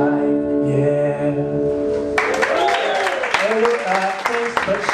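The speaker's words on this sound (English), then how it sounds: "if we could just keep the applause till the end" Audience applause at a comedy show at Randwick Rugby Club in Coogee, breaking out loud and close after a sung or sustained tone and continuing steadily to the end, with a voice talking over the clapping.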